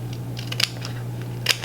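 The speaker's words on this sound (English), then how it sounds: "I'm gonna cut the dark blue one, and I'm gonna cut it into 3s." Scissors snip through dark blue paper in a few short, crisp cuts, close and quiet over a low steady hum, with no talking.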